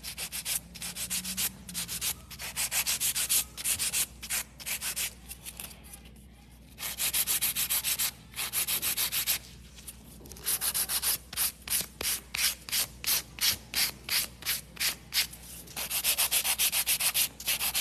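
An electric nail drill files acrylic nails in a salon, producing repeated bursts of close, steady whirring and grinding, broken by short pauses with a rhythmic run of quick strokes near the end.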